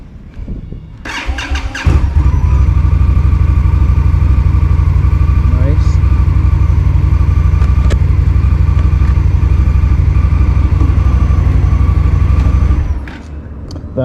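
An Indian Scout Bobber motorcycle cranks and fires up, then settles into a loud, steady, close idle that runs for about eleven seconds before cutting off abruptly.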